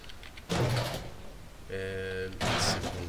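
A door shutting in the video game 7 Days To Die, with two sharp, close bursts of movement and a brief tonal, mechanical sound between them.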